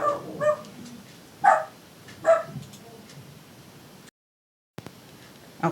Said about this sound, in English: Now Oz is barking at the dog.